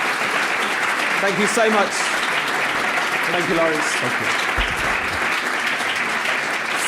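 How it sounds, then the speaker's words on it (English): Loud rapturous applause fills a ceremony hall, a dense steady wash of clapping while someone speaks over it, thanking people. "Rapturous applause"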